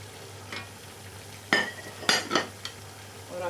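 Chicken frying in a pan as tomatoes and green chillies go in for a jalfrezi, with a few sharp utensil clinks and stirring scrapes over a faint background sizzle, no talking.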